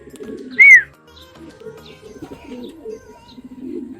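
Racing pigeons returning from a training flight in Meycauayan, Bulacan give one sharp call, then low, soft cooing that continues in short bursts, close and fairly clear.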